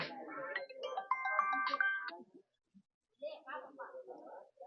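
A phone ringtone plays a bright, repeating melody over voices, then cuts off, followed by a brief pause and more talking.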